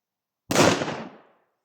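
A single firecracker blasts once, loud and close, with a sharp broadband crack that decays over about a second into silence; no voices.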